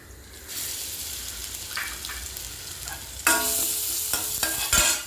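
Fennel seeds fry in hot oil in a pan as the first step of a zucchini, capsicum and egg kuruma. A steady sizzle rises sharply partway through, with a few light scrapes and knocks, close by and with no talking.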